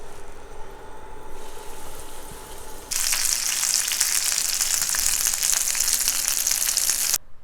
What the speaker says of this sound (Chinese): 油热以后，放入刚才裹好蛋液面包糠的猪排进行煎制。